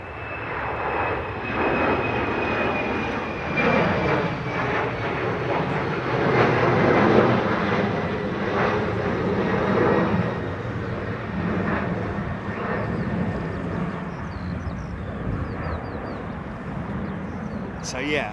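Aircraft engines roar steadily at the Airbus factory in Toulouse, a broad sustained drone with a high whine running throughout, loud and continuous, as a person talks over it.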